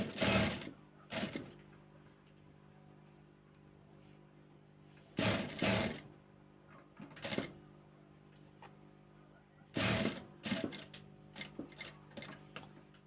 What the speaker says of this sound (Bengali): স্লো ভাবে সেলাইটা করতে হবে,